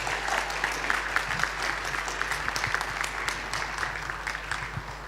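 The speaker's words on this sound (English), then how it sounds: "Let's give him another very loud round of applause." A conference audience at a forum on displacement gives a loud round of applause, dense continuous clapping from many hands with a low steady hum beneath, no voices over it.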